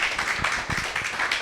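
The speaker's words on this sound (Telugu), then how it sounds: "ఒకసారి మనకి మనం గట్టిగా క్లాప్స్ కొట్టుకుందాం" A small audience of thirty to forty people at a Telugu spiritual talk claps hard together, a thick, continuous patter of hands at moderate loudness with a few stronger slaps standing out.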